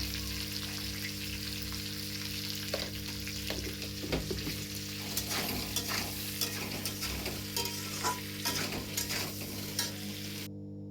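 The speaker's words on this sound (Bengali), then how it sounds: "আমি আলু বেগুনটা নাড়তে বসিয়ে দিয়ে" Potato and eggplant frying in a pan, a steady close sizzle with a steady low hum underneath and irregular scraping taps of a stirring spoon.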